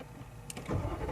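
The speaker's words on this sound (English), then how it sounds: "Before we do that, we just need to fire up the car." A 2013 Mercedes G63 AMG engine turning over, a short starter whir and catch building into a low rumble, close and fairly loud, with no talking.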